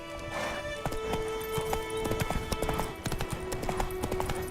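Horse hooves gallop in The Witcher 3: Wild Hunt, a fast steady clip-clop near and loud over a constant low background hum, no talk.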